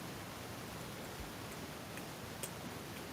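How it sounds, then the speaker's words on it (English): Rain falls at night near a house downspout, giving a quiet, even hiss with a few faint ticks and drips scattered through it. "It's raining"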